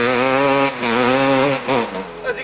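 A motorbike engine, just drained of water from its exhaust after a dip, revs up loudly and close by in repeated bursts, the pitch rising and dipping with each twist of the throttle.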